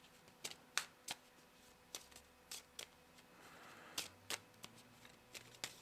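Playing cards for the Veilwraith card game being shuffled on a table, a quiet run of sharp riffling snaps and flicks in uneven bursts, close and alone with no talk.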